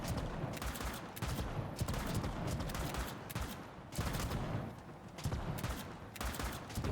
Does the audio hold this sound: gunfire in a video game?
yes